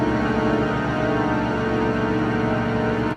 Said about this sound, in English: If I orchestrated it with a full orchestra, it would sound like this.